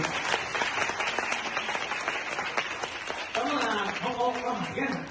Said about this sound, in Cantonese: 俾多一次掌聲 為所有嘅表演員